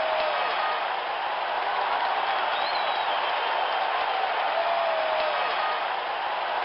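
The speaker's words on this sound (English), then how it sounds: "Listen to that crowd." Steady crowd roar from the Baseball for Windows computer game after a go-ahead double, a continuous dense cheer at even loudness throughout.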